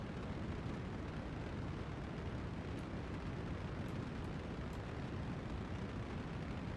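A steady, dense roar from a Kerbal Space Program rocket engine burning on the way to Minmus, loud and unbroken throughout with a few faint ticks above it, and no talking.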